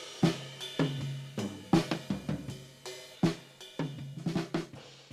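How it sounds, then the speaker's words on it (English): Drums in the bridge of an indie pop song after a tempo change play a steady groove of punchy kick and snare hits with bright cymbal wash, loud and close, with no voices. "and the drums sound like this"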